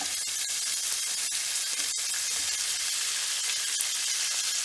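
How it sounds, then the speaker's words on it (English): Sausage and lampascioni onions sauté in a pan with a steady, close sizzling hiss and occasional sharp pops, with no talk over it. "Now we got the lampascioni. Lampascioni in my city, Dorsara, we was called I cipollini. And we saute that together."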